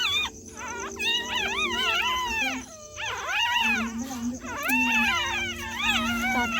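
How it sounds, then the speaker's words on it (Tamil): Newborn native-breed puppies cry in high, wavering, cat-like mewls, repeated bursts close by, with a low steady hum underneath. "கத்துது. பூனை மாதிரி கத்துது. குட்டி அப்படிதான் கத்தும்."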